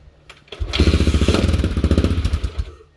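A Honda XR600R dirt bike's single-cylinder engine kicks over and fires, settling into a rapid, loud, throbbing idle for about two seconds before cutting out.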